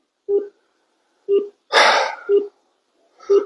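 Telephone keypad tones while dialing a disaster helpline number, several short evenly spaced beeps, loud and close, broken by a brief burst of noise with no talk.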